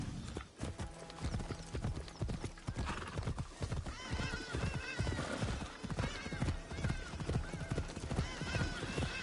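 Horse hooves in Assassin's Creed Shadows pound out a steady, dense clip-clop gallop at close range for the whole stretch, with a brief whinny near the start and busy game music and ambience layered beneath.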